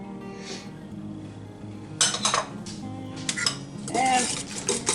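Honey and mustard stirred together in a bowl, close clinking and scraping of a utensil against the dish that starts about halfway through and continues in uneven strokes.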